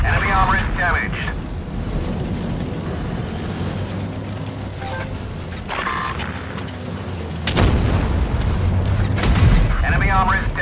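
Heavy shell impacts and booming explosions ring out against tank armor in WoT Blitz, with a Jagdpanzer E 100, E 50 M or FV4202 involved. Loud repeated blasts sit over rumbling engine noise, and short voice announcements come and go.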